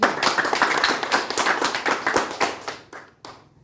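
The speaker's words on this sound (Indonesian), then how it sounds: "kita berikan aplaus" A classroom group claps for a group presentation, a dense burst of hand claps that thins into a few scattered claps and fades out.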